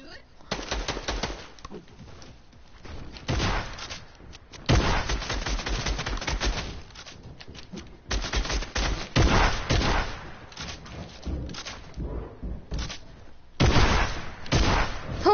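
Shotgun fire in a video game comes in loud, repeated bursts with scattered blasts across the round, mixed with energetic talk from the players.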